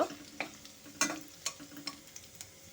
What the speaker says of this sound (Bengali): রসুন কুচিটা দিয়ে একটু ভাজা ভাজা করে নেব